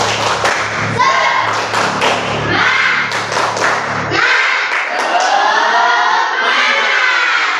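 A classroom of students performs the tepuk semangat clapping chant, with quick rhythmic claps and thumps mixed with children's chanting voices. The claps give way to loud group shouting for the last few seconds.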